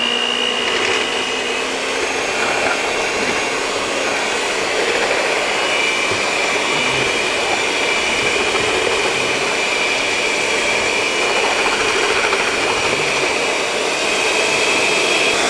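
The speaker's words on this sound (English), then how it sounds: "And then we whisk away until it forms peaks" An electric mixer whirs loudly and steadily while whisking a vanilla baking mixture toward stiff peaks, a constant high motor whine holding unbroken from start to finish.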